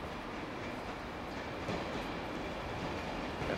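A yellow train pulling into a platform at an Edinburgh station, a steady broad rumble of wheels and rolling stock with faint clatter, continuous and moderately distant.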